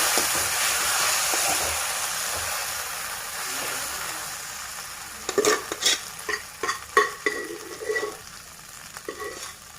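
A grated coconut mixture for Melkote pulihora fries in a pan, sizzling steadily, then a spoon scrapes and stirs in a run of quick clattering strokes close by in the second half.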